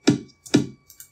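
Two punchy, sampled kick drum hits taken from a Kirby game, played in FL Studio as part of an EDM drop, followed by two fainter clicks, dry and close.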